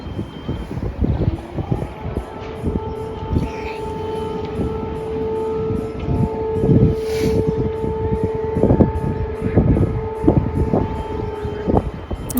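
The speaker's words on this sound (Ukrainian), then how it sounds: "коли на підйомі почалася повітряна тривога" An air raid siren sounds across Dnipro, Ukraine, as a long steady wail held over loud wind buffeting and traffic-like rumble outdoors, with a voice briefly audible.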